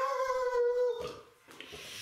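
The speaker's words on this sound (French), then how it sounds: "Alors, un chien passe." A passing dog howls in a long, wavering, tonal cry that fades out, followed by a couple of faint scuffling sounds in a quiet indoor setting.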